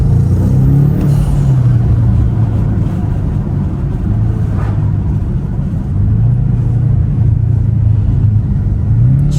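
A BMW M5 G90 with modified intake and exhaust drives on throttle. A deep, steady engine rumble with a low droning tone holds close and loud throughout.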